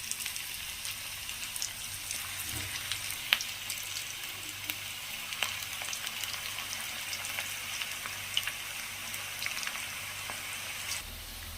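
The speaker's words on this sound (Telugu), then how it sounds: "ఇప్పుడు మనము ఆయిల్ వేడి చేసి పకోడీలాగా వేసుకుందాం" Onion pakoda batter frying in hot oil, a steady dense sizzle with crackling pops running throughout at moderate, even loudness, close by and with no talk.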